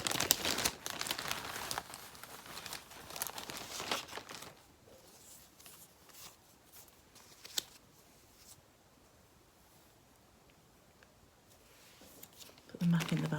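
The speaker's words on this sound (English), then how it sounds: "Excuse the rustling." Plastic packets of cross stitch thread and their bag crinkle loudly and close up for about four seconds, then fainter handling rustles follow, with a brief louder burst of crinkling at the very end.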